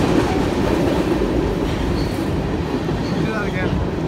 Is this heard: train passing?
yes